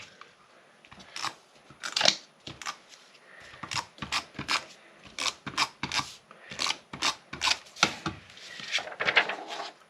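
Scissors trimming a sheet of copper-coloured scrapbook paper, a run of crisp, evenly spaced snips and rasping cuts close up, with no talking.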